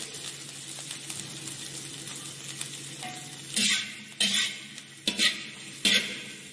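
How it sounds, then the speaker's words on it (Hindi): Shredded cabbage for vegetable noodles sautéing in a hot pan, a steady close sizzle broken by several loud scraping, stirring clatters of a spatula against the metal in the second half, with no talk. "और इसको 10 to 15 सेकेंड सौते करेंगे। Now add shredded cabbage."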